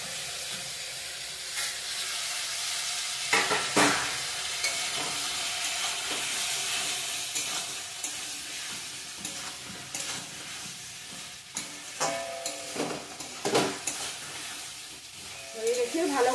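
Rohu fish with cauliflower and potato sizzles steadily in hot oil, a continuous close hiss broken by the scrape and clatter of a spoon stirring the pan at intervals.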